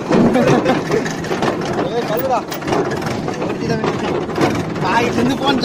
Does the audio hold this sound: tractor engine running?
yes